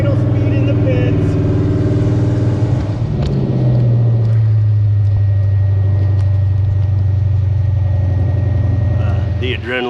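A tough truck engine idles in the pits at a race, a loud, close, steady low drone with a brief shift in pitch partway through, under a busy outdoor background.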